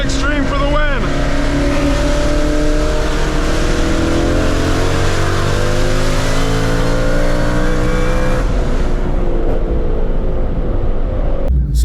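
A Shelby with a Corsa Extreme exhaust, supercharger blower and 10-speed DCT makes a hard pull. The engine roars loud and close, climbing steadily in pitch under a blower whine, then eases off near the end.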